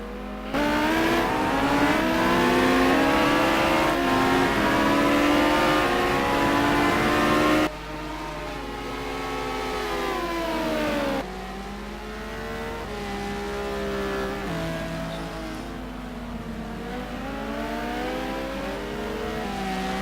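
Race car engines from a Lamborghini and a McLaren in a sim racing game at Kyalami, a loud sustained howl rising and falling through gear changes, with revs climbing and dropping repeatedly.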